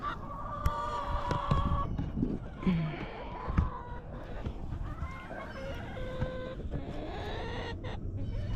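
Chickens cluck and squawk nearby in a backyard coop in the morning, making irregular, moderately quiet calls over faint background noise.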